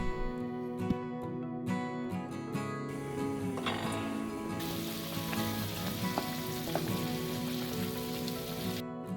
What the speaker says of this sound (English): Now that the soup is boiling,